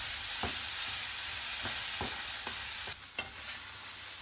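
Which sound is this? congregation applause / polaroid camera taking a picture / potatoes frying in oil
potatoes frying in oil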